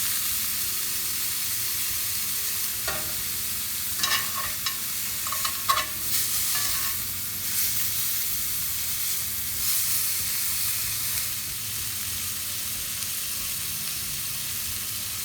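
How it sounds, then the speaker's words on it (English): Bacon frying in a pan and being flipped, a constant soft sizzle with a few clinks and scraping turns in the middle, moderately quiet with no voices. "To flip it so the bacon gets cooked"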